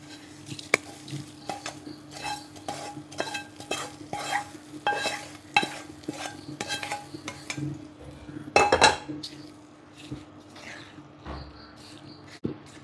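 Tempering of fried cashews and raisins poured into a sweet pineapple and banana curry, followed by steady stirring with repeated spoon clinks against the pot, close and alone, with a brief louder sizzle partway through.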